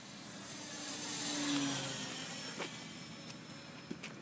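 An RC Hawker Hurricane model plane's motor runs at half throttle outdoors, giving a faint, distant whirring whine that rises and fades over a few seconds, with a couple of small knocks.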